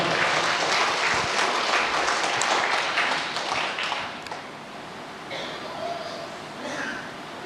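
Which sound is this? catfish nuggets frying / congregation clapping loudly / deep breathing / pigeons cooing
congregation clapping loudly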